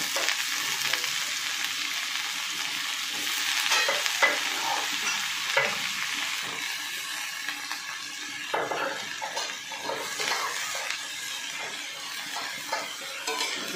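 Eggplant and potato sizzle steadily in a hot pan while a utensil stirs and scrapes through them, a continuous crackling hiss with no talking.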